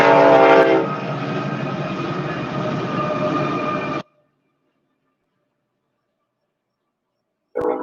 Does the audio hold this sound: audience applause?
no